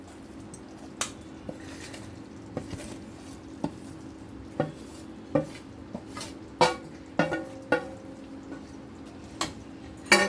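A spoon stirring melted jaggery mixed with wheat flour and fried dry fruits in a pan, sounding as sharp scraping knocks against the metal that come irregularly and grow more frequent and louder toward the end.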